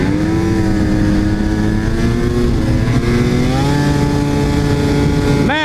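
A snowmobile engine drones loud and steady while riding on snow, its pitch holding and shifting slightly as the throttle is worked, ending in a sharp rising rev.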